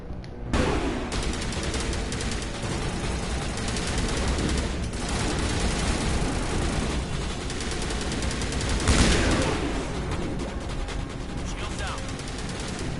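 Dense, loud gunfire in the video game Mass Effect, sustained rapid bursts and crackling shots that fill the whole stretch, with a voice talking now and then over the shooting.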